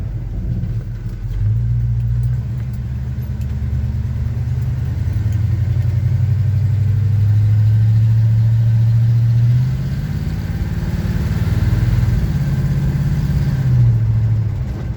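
A 1975 Chevy C10 truck drives along with a loud, close, low engine rumble. Its pitch rises and falls gently as the truck moves through the gears, and it runs steadily throughout with no talk.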